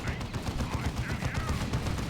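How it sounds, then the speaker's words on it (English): Lascannon shots hitting a Dreadnought in the Dawn of War 2 strategy game, a dense stream of rapid crackling blasts and impacts at low level, layered over ongoing battle noise. "Las Cannon getting shots on the Dreadnought, but it has suppressed the Las Cannon, but not for long."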